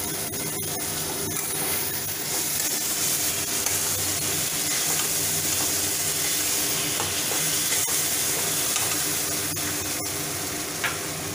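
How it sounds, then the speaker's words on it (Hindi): Ghugni with tomato ketchup stirred in a pan, a steady sizzling and frying hiss with soft scraping stirs running continuously and fairly close, no voices. "देने के बाद इसको अच्छी तरह से मिक्स कर लीजिए।"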